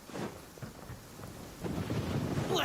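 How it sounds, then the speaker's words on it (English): Thunder rumbles through a stormy scene in the video game Genshin Impact, a continuous low roll under steady rain that swells louder toward the end, with no voices. "It's really thundering now."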